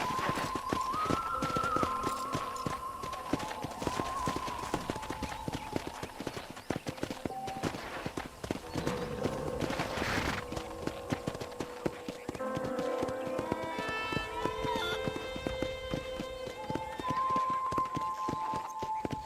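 Horse hooves clip-clopping in Red Dead Redemption on Xbox 360, a steady rhythmic run of hoofbeats that goes on throughout, with music and a character's talking layered over the clatter.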